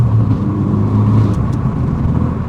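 A Renault Megane 3 RS Red Bull edition engine rumbles loud and close from inside the car, a steady low drone with slight dips as gears are short-shifted.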